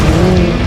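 A Hyundai IONIQ 5N electric car drifts with hydraulic side brakes, giving a loud, close, steady tire squeal with a held tone that lasts for under a second.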